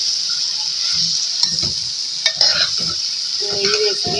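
Okra fries in a pan with spices, a constant bright sizzle close up, broken by scraping stirs and light clinks of a spoon against the pan.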